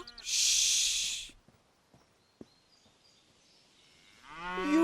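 Cattle mooing at a farm, one drawn-out low moo rising near the end after a quieter stretch, with a sharp hissing burst at the start.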